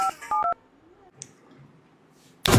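Telephone keypad dialing tones: three short, loud beeps in quick succession, then near-silence and a sharp click or clatter at the end.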